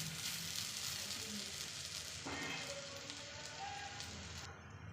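Spicy bread toast browning on both sides in a pan gives a soft, steady sizzle, faint and continuous throughout with no talk over it.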